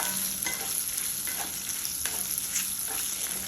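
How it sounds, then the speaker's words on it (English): Groundnuts and cashews roast in a pan for a millet chivda snack, a dense steady hiss with rhythmic scraping strokes of a stirring spoon about once a second. "Roast it until it is light brown."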